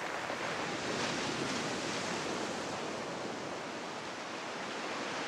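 Ocean waves break and wash over a boulder-strewn beach in Shetland, a continuous broad roar of surf with gentle swells, fairly quiet and steady, with no voices.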